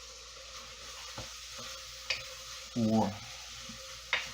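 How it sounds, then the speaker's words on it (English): Onions dropped into a hot pressure cooker pot for lamb stew, sizzling and frying steadily up close with a few stirring scrapes and clicks; one short spoken word sounds over the cooking. "I'm gonna go ahead and put about half of these onions in there right now"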